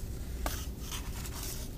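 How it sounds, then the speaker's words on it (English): Scissors snip a slit into cardboard up close, a crisp cut followed by scraping, rubbing friction, faint and alone. "and then I cut a slit"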